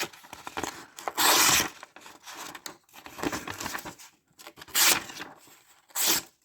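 A Sitivien ST147 knife with a 14C28N steel blade rips and tears through material as it cuts, giving rough scraping and crinkling strokes with several louder tearing bursts, close up and irregular.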